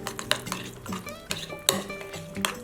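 Spoon stirring pesto and olive oil together in a bowl, with repeated clinks and scrapes against the dish in an uneven rhythm, close and clear, with no talking.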